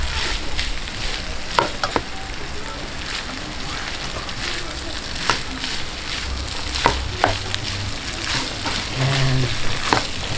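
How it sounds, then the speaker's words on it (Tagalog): Crispy pork sisig is stirred in a hot pan: a steady sizzle of frying meat runs throughout, broken by sharp scrapes and clacks of the utensil against the pan. "Haluin lang po natin."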